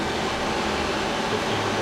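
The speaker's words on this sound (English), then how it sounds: "Live tool first. That's 500 RPM." Live tool spindle of a Feeler HT 30Y CNC turning center running at 500 RPM, a steady, close mechanical hum and whir with broadband machine noise, unchanging across the short span and free of talk.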